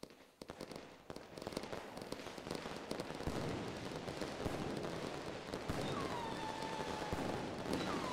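Fireworks cakes firing in the video game Pyroworks, a dense continuous crackle and rapid popping bursts with a few whistling rises near the end, fairly faint and steady.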